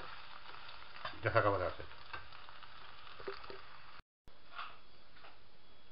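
Potatoes and scrambled eggs sizzle softly in a frying pan as the cooking finishes, a steady low hiss with a brief stirring scrape early on, while a person speaks briefly; a short dropout breaks it near the end.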